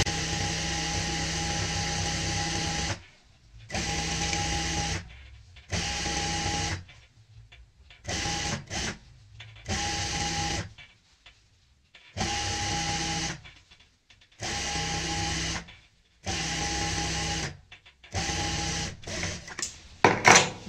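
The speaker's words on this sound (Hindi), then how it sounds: "निशान के ऊपर सिलाई लगाएंगे।" A sewing machine stitches a doubled fabric strip for a frill in repeated bursts of steady whirring, each lasting a couple of seconds and separated by short pauses, close and fairly quiet.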